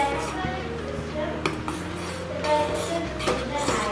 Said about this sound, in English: We have to continuously stir it like this so that cashew milk doesn't get stuck on the sides and the bottom of the vessel